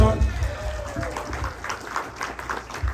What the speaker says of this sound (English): give a round of applause for.